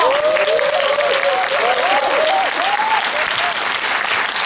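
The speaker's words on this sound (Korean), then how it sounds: "박수 한번 주세요." A film festival audience at a Busan International Film Festival screening Q&A breaks into dense, loud applause that continues steadily, with a voice rising above it briefly.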